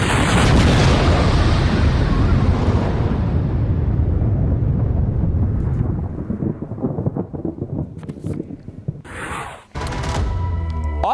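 Explosions from an Israeli military strike on Hezbollah positions in a village in Lebanon, a loud, heavy rumbling blast that slowly fades over several seconds, followed by scattered crackling and debris noise, with no talking.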